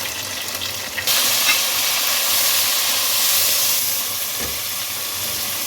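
Chopped tomatoes and three to four green chillies hit hot oil in a beef pulao masala, giving a loud, steady frying sizzle that jumps up after about a second and stays even to the end, with no talking.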